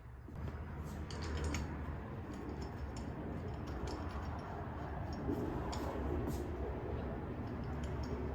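Small metallic clicks and ratcheting of handlebar clamp bolts being threaded in by hand on a Kawasaki KDX250 triple clamp, faint and close over a steady low room hum.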